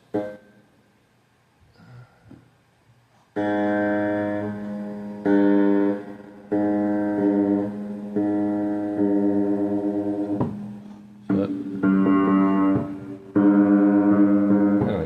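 Sustained piano notes sound one after another, each ringing with a slightly wavering, beating tone from two mistuned strings on the note, separated by short pauses and a few soft taps.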